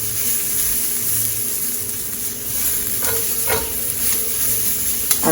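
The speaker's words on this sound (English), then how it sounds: "we're gonna fry these up" Mushrooms and onions frying in a pan, a loud continuous sizzle close up with a few stirring scrapes near the end, no voices.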